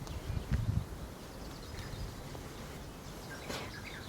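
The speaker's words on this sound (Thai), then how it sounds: "มีเสียงนกร้องด้วยโหแบบว่า ธรรมชาติมากๆ" Birds sing outdoors in a Swedish meadow on the coast at Tosteberga, with faint, scattered chirps over a steady breezy background, and no voices.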